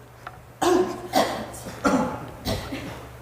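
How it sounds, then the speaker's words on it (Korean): Four loud, sharp coughs in a row, each a short harsh burst with brief pauses between, close to the listener. "기침을 크게 한번 해보세요."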